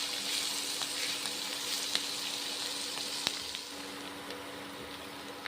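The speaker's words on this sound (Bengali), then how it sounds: "নেড়ে ছেড়ে নিচ্ছি বাঁধাকপি আর সাদা কলাই ডাল" Shredded cabbage and white urad dal fry in a pan, giving a soft, even sizzle with a few faint clinks of stirring.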